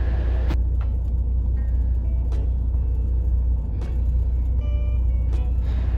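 A truck engine idles with a steady low rumble after an automatic idle-management system starts it, and a few brief clicks and taps sound over the constant drone.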